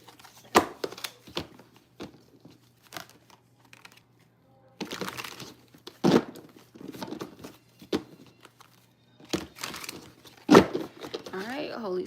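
Tarot cards being shuffled by hand, with intermittent crisp riffling and soft slapping bursts in irregular clusters, close and moderately loud, with short pauses between handfuls.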